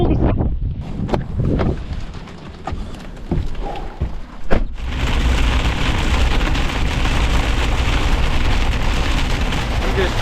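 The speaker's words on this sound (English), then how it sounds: "Well, it started raining." Steady rain hisses loudly over a wind-buffeted microphone in a farm field, following a stretch of scattered drips and rumbling thunder.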